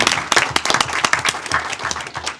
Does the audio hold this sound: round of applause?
yes